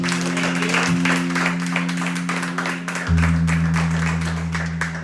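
A church congregation claps during a worship service, a dense run of rhythmic hand claps over sustained organ or keyboard chords, with a voice faintly heard beneath the applause.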